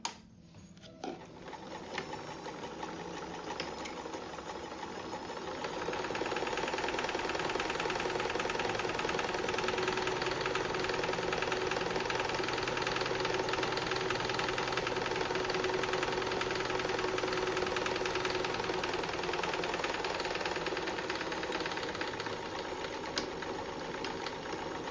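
A sewing machine runs continuous zigzag stitching on a patriotic zippered seat cushion cover, a fast, even mechanical whir that speeds up after a few seconds and holds steady, with no talk.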